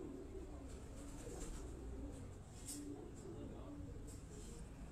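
A flock of pigeons coos faintly in a steady low murmur under a constant background hiss, with occasional brief chirps and no talk.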